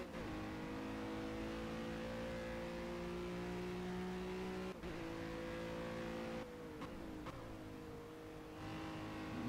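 Ginetta GT4 race car in Project Cars sim racing, engine droning steadily at high revs with a couple of sharp dips and blips as it downshifts, close and continuous with no talk.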